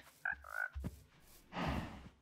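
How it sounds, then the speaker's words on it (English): A frog in the FTB Minecraft modpack croaking nearby, a few distinct ribbiting croaks followed by a louder rasping croak, with no talk over it. "It's my first frog."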